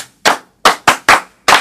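Five sharp, separate hand claps from a classroom skit ring out close and loud at an uneven pace, with short silences between them.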